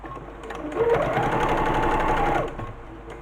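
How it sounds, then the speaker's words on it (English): A sewing machine runs in one steady burst of about two seconds, stitching along the folded edge of a fabric shopping tote, close and loud with a brief start and stop at either end. "we're going to sew all the way around, and we're going to watch our left hand edge of the foot on the fold"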